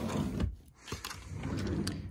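A drawer of a chest of drawers in a little girl's dressing room slides open and shut, with soft wooden scrapes and knocks and a sharper bump at the end, fairly quiet and close.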